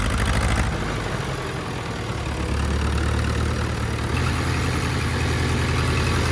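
An old David Brown Cropmaster tractor engine idles loudly and steadily up close, a constant low chugging rumble with no voices.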